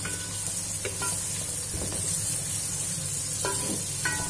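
Onions sizzle in a pan for an arvi-baingan dish while a spoon stirs them, a steady broadband frying hiss with a few soft scraping knocks at intervals, close and continuous with no voices.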